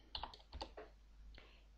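A computer keyboard clacks with several quick, close keystrokes in two short bursts, then a final key press, quiet and isolated as a command is typed into the Aardwolf MUD text game.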